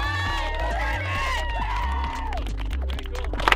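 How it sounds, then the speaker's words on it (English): Crowd cheering at an RC flying truck event: a short burst of loud, busy voices and whoops with shouting mixed in, building to sharper peaks at the very end. "Everyone, give them another round of applause."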